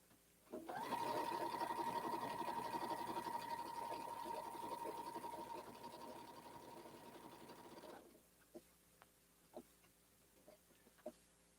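A sewing machine stitches a small zigzag on an art quilt, a steady close whirring run of about seven seconds that slows and stops, followed by a few sparse clicks.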